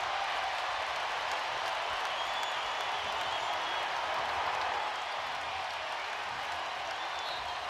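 Crowd at a Georgia Tech vs. North Carolina college basketball game giving a sarcastic Bronx cheer, a sustained wash of arena applause and crowd noise heard from a distance, steady and moderately loud.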